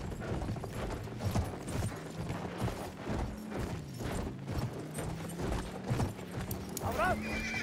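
Horse hooves clip-clop in a steady rhythm with loud whinnies and neighs in the Battlefield 1 video game, set against a busy battlefield din of distant gunfire and engines, with voices calling out under the noise.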